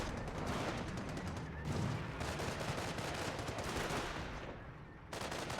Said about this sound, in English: 30 cal firing away, getting some hits there on that Panzer Grenadier